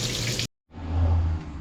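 Hot water gushing steadily from a tap, fed by a newly fitted gas boiler that has just been fired up. The flow cuts off briefly, then runs again with a fuller, deeper splash into the sink.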